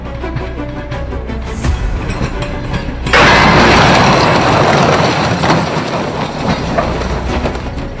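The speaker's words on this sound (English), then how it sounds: "controlled train crash tests were held casually to assess some of the train's features like emergency braking" A train in a controlled crash test in Russia rumbles steadily, then an abrupt, loud crash bursts in about three seconds in and settles into a sustained heavy roar of grinding, clattering metal.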